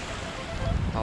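Sea waves wash in at the shore near Murudeshwar temple, a steady broad roar of surf and water close to the microphone, with wind buffeting throughout and a louder surge toward the end.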